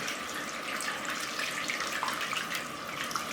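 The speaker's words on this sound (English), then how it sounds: "What you want to do now is wash off the soap." Tap water runs steadily into a sink as soap is rinsed off hands, a close, continuous hiss and splash with no talk.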